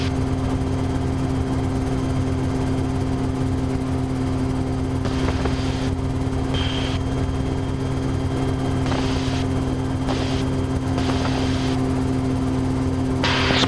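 A helicopter flies steadily with a continuous droning rotor and engine hum and a strong tonal whine, loud and unbroken, with faint radio-like bursts now and then.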